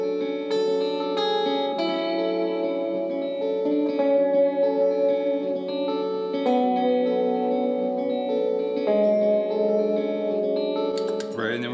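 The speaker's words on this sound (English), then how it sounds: "the keyboard lick's gonna sound like this" A short keyboard lick, sustained, slightly effected notes over a looping backing, smooth and steady at moderate volume with no one talking.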